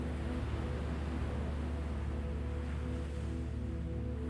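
Steady ocean surf with a continuous wash of broad, rushing noise and a low rumble, even and unbroken throughout, with no voices.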